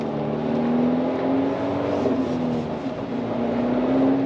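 A car rolling on a snow-covered road on Nexen Winguard Sport 2 winter tires, a steady close engine hum and tire drone with a slight rise in pitch, no talk.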